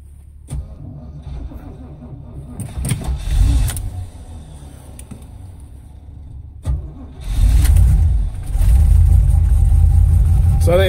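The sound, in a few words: old car engine cold starting at -25C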